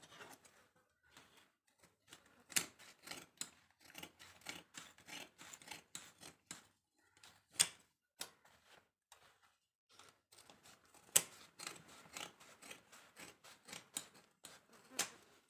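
Scissors snip through the hem edge of old jeans being turned into a skirt, a long run of quick, crisp cuts in bursts with short pauses, close and fairly quiet, with no talking.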